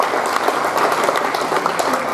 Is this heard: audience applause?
yes